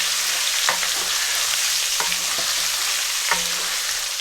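Paneer quick-frying in a pan over medium heat, a steady close sizzle carrying on throughout, with a few sharp scrapes of a spatula stirring the cubes at irregular intervals.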